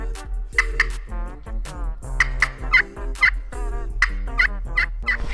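Wild turkeys gobble in thick woods, loud and close, with a rapid string of rattling calls that rises and falls in quick repeated bursts across the whole stretch. No voices are heard.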